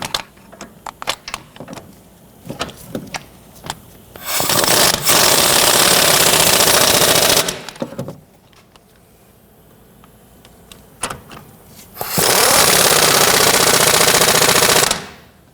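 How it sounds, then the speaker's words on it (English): Front lower control arm bolts on a 1992-1996 Toyota Camry are run down with a wrench: scattered clicks and taps, then two long, loud, rattling bursts of tool noise close up. "I'm going to go ahead and snug down the control arm bolts here."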